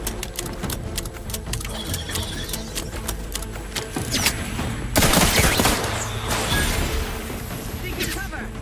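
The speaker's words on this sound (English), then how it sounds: "They're getting shot at." Gunfire in The Outer Worlds 2 rattles in rapid, dense volleys under game music and effects, swelling into a louder burst midway, while voices talk over it.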